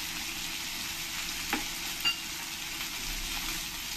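Garlic paste frying in plenty of hot oil, a constant close bubbling sizzle with a couple of faint clinks as a spoon touches the pan.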